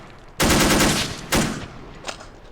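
Soldiers' machine guns fire in Assault Squad 2 in two loud, close bursts of rapid shots, then a brief softer crack, with no talking.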